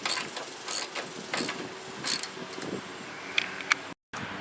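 Bolts are tightened with a ratchet on an MTD snow blower during an auger belt replacement, several short clicking bursts spaced apart, close by, with light metallic taps and a brief dropout near the end.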